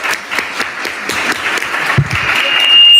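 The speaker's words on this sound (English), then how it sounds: "Clap, y'all." Student government senate members clap as a speaker is called to the podium, a few distinct hand claps spaced out at first, then blending into brief, close applause.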